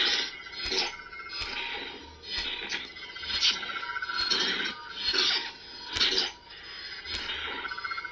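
A toy Dark Saber lightsaber gives off its hit effect, a string of sharp crackling impact bursts over a buzzing electronic hum, fairly close and steady in rhythm.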